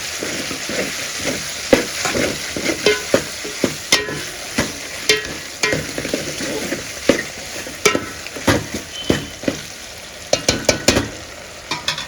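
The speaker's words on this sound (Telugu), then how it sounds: "ఇలా బాగా కలుపుకోవాలన్నమాట మనం టమాటాలు వేసిన తర్వాత" Tomatoes frying in a pan for a Rayalaseema-style chicken kushka with small onions, stirred steadily with a ladle; a constant sizzle sits under repeated sharp scraping knocks of the utensil against the pan, close and fairly loud, with no talking.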